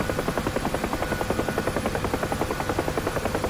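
Steady, rapid rotor chop from a UH-1H Huey helicopter in flight in the DCS combat flight simulator, a loud continuous thudding beat with engine whine underneath.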